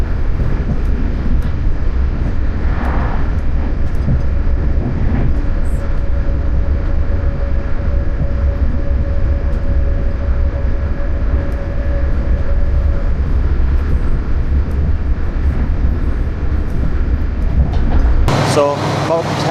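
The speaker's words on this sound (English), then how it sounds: "when I finally caught another train coming against us" A train rumbles past close by on the Irish line toward Dublin Heuston, a steady loud roar with a sustained tonal hum, ending in a sharp burst of noise as it clears.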